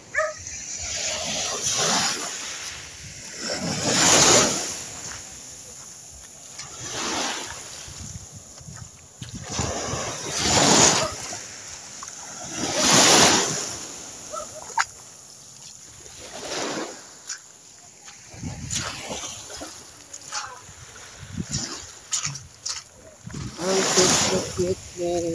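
Ocean waves at Cabitoonan Beach in Balamban, Cebu, surge and wash in repeated swells every few seconds, with people talking nearby between the breakers.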